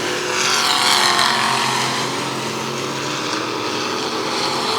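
Factory stock race car at Tulsa Speedway running with a tire off the rim, its engine roaring steadily and loud throughout, with broad mechanical noise and no talk.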